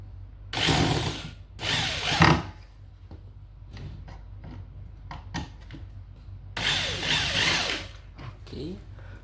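Power screwdriver tightening screws while assembling a medium-size office desk, several loud bursts of whirring with clicks and knocks between them, a voice briefly heard.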